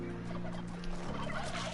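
A turkey gobbles inside the platform game Spelunky 2, a brief burst of rapid warbling clucks at low volume over a steady synthetic hum, with no talking.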